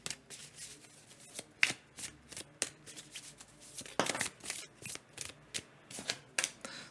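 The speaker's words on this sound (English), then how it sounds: "So I'm gonna draw a few more cards for you." A deck of tarot cards is shuffled and dealt, giving a run of quick, crisp riffling and flicking bursts in an irregular rhythm, close and clear with no talking.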